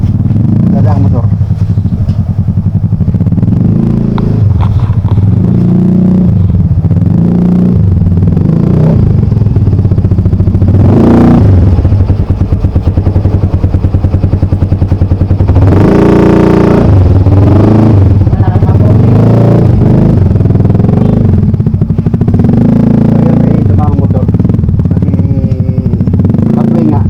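Motorcycle tricycles in the town of Lopez, Quezon, run loudly and close by, with a steady low engine drone, rattling clatter and a couple of revving surges, while people talk over the noise.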